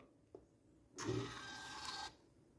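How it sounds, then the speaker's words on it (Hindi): A GOOJPRT PT210 Bluetooth thermal receipt printer runs a test print: a small click, then about a second of steady, close electric whirring and buzzing from the print head and paper feed, stopping abruptly. "अब हम एक टेस्ट प्रिंट मार के देखते हैं कि ये अपने पास चल रहा है या नहीं चलता"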